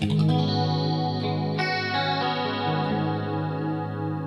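A clean electric guitar through a Super Chorus pedal plays sustained chords with a shimmering chorus effect, ringing out steadily with no voices.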